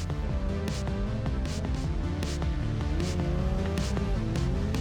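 A stunt motorcycle performing a burn drift in an acrobatic show, tires squealing continuously over a loud engine roar, sustained and close throughout.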